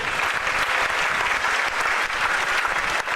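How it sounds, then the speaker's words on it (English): A theater audience at Universal Studios breaks into dense, steady applause for the engineers before a staged scene, loud and continuous throughout without pause. "How about giving the engineers a big round of applause before they do their first big scene?"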